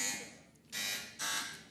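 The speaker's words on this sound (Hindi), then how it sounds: "अपना अपना बजर चेक करा दे।" Quiz competition buzzers tested on a studio game show, two loud bursts of harsh electronic buzzing, each under a second, separated by a brief pause.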